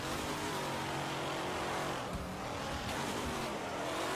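Cars roar and rev in the Wreckfest demolition racing game, a dense, loud wall of engine noise with grinding and rumbling from several vehicles at once, continuous throughout.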